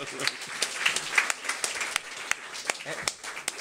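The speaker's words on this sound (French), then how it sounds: "Moi, j'aimerais que vous applaudissiez Dominique" Scattered clapping from a crowd at a secondary school talent show, fairly light and uneven, with French voices audible underneath.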